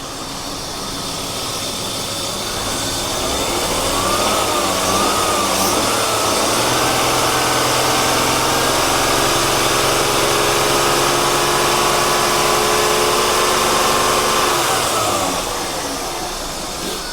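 A car engine idles after standing unused for two years, a steady loud mechanical hum with a faint rising whine partway through, running alone for about seventeen seconds before easing off.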